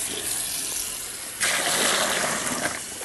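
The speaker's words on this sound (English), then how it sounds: "we need to add a certain amount of hot water to the actual brew" Hot water pours into a thin container for home beer brewing, first as a quieter trickle, then a louder gushing pour from about halfway through.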